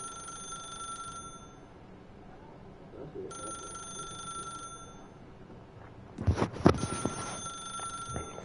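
A telephone rings in the video game The Stanley Parable, two bright electronic ring bursts a couple of seconds apart, followed by a brief clatter of louder noise and faint background chatter.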